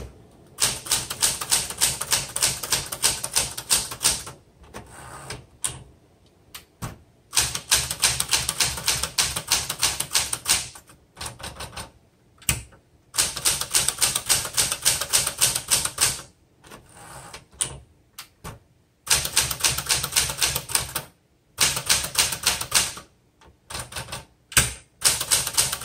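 Keys of a 1974 Smith Corona Classic 12 manual typewriter clatter in loud, rapid bursts of strokes, broken by short pauses and a few isolated clacks, with no talking.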